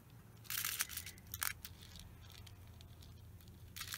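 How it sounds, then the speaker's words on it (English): Scissors snip through a cardboard toilet paper roll indoors, making a few sharp, crisp cutting bursts close by over a low steady hum, with no talk. "I need to cut the guts for the toilet paper roll books."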